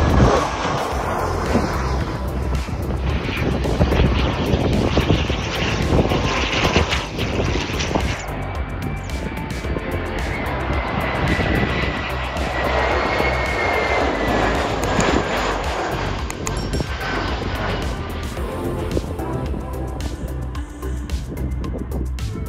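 Airplane passing at the Mallorca airport on a windy day, a continuous loud roaring engine drone that holds steady and close for over twenty seconds amid wind noise.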